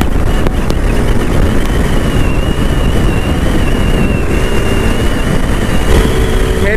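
Motorcycle engine at full power while riding, a loud continuous roar with wind noise throughout and a slight rising whine, without talk.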